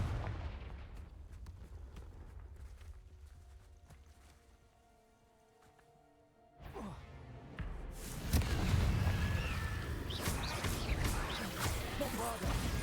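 Confringo fire spell blasts from Hogwarts Legacy, a loud burst of explosive, crackling impacts with whooshes in the second half after a quieter stretch of game music, with a voice speaking.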